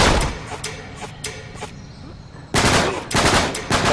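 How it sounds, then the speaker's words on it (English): Rapid gunfire in the multiplayer shooter Uncharted 3 during a team deathmatch, dense bursts of loud, close shots that thin out mid-clip, then return in heavy, continuous volleys. "I'm getting shot from Meg"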